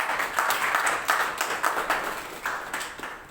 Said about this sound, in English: Shall we have a big round of applause?